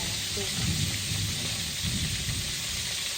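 Steady, close sizzling of fish frying in hot oil in a pan, a continuous crackling hiss with faint low voices underneath.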